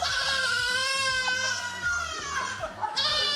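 Young goats bleat in quick, high wavering cries, several overlapping at close range, with a rhythmic thumping beat running underneath.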